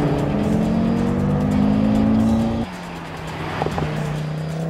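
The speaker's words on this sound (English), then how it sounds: "An exhaust flap has just opened an exhaust system and it sounds like this." Audi TT RS with 2.5-litre five-cylinder turbo engine and exhaust flap open, a steady droning exhaust note that drops in pitch partway through, then settles into a lower, quieter hum with small blips.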